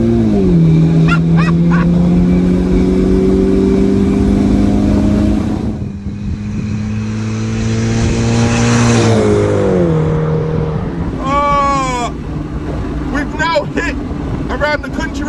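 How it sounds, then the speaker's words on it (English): BMW 1 Series E88 pulling hard on kickdown along country roads, heard from inside amid constant wind roar: the engine pitch rises, drops at a gear change, then climbs again while a voice whoops. "You put your foot down the accelerator, it takes to the lowest gear possible."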